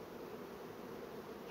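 A honeybee buzzes near the hive in a steady, even drone that stays close and continuous throughout, with no voices over it.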